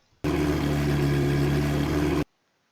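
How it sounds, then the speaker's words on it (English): Simulated car engine idling in an Unreal Engine drift game, a steady low rumbling drone that starts abruptly, holds at an even, loud level for about two seconds, then cuts off cleanly, with no voices. "The idle sound is basically when the car is"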